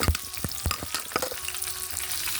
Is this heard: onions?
yes